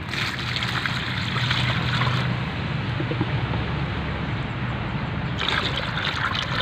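About 3 liters of water pour and trickle steadily for several seconds onto a bougainvillea plant, a continuous splashing flow close by, with no talking.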